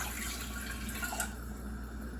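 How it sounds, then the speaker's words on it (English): Water poured from a cup into a pot of sugary candy mixture on a stove, a steady close splashing pour under a constant low background hum. "now that I've filled this cup with water, I'm going to put some of it into this pot"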